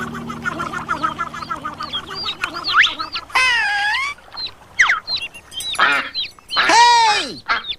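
A mother duck quacks and clucks in a series of nasal calls close up, mixed with other fowl-like squawks and chirps in irregular bursts.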